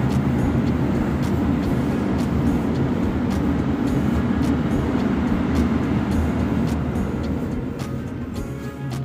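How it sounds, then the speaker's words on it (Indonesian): A train rolls past close by, a loud, steady broadband rumble with rail clatter that holds for about eight seconds before easing slightly at the end; no one speaks. "Ada kereta api lewat ya."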